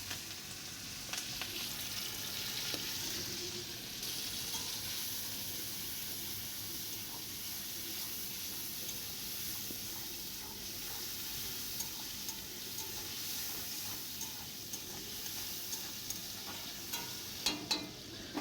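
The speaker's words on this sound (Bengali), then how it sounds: "এবার চিংড়ি মাছগুলো ভেজে নেব।" Prawns fry quietly in a pan, giving a soft continuous sizzle broken by scattered pops and spatters. Stirring scrapes come and go, with a few sharper crackles near the end.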